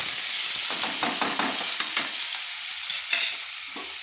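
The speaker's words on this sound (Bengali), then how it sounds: "একটু হালকা লাল লাল করে আমি ভেজে নেব পেঁয়াজটা" Chopped onion with black cumin frying in a pan for a Bengali rui posto dish, giving a steady close sizzle with scattered crackles and stirring scrapes and no talk.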